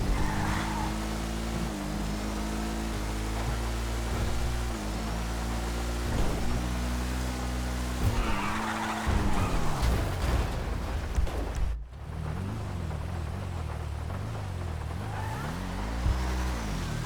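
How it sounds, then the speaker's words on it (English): Racing car in a wet-weather motorsport video game crashing, with engine drone, tire squeal and skidding scrapes building to a loud impact burst, then the engine revving on afterward. "So yeah, that was a really annoying little crash."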